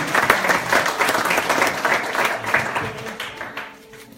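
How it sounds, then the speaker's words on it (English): A church congregation claps for a woman during a Christmas celebration service in Sacramento, dense steady applause filling the room and tapering off near the end, with no talking over it. "Let's give a clap to Sister Sarah."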